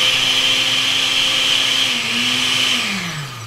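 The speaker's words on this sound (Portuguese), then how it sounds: "Se vocês colocarem ele na base do liquidificador no início, não vai girar, vai ser pior ainda pra bater." A kitchen blender whirs loudly and continuously while mixing a passion fruit protein mousse, its motor pitch sliding downward near the end as it slows.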